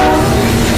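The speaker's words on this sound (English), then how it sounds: "mind out, there's a train coming" A train rolls past at very close range, a loud, dense and steady roar of wheels and carriages with no pause across the whole moment.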